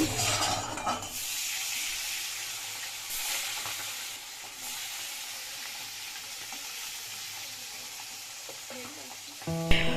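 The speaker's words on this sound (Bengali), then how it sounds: "এখন হচ্ছে মাছগুলো ভাজা হবে" Fish sizzles steadily in a hot frying pan, a loud broadband hiss that continues unbroken for several seconds, with faint clatter at the start and end and no talking.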